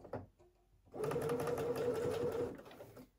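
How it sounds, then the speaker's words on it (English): A sewing machine runs in one steady burst of stitching on knit fabric, a rapid mechanical whirr of about a second and a half after a few quiet handling noises. "go to your sewing machine, and with a 1/2 inch seam allowance, we're going to sew those short ends together"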